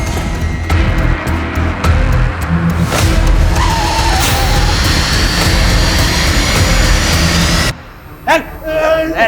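A car speeds off with tyres skidding and squealing, a loud continuous roar of engine and road noise that cuts out abruptly, leaving a short burst of quieter sounds at the end.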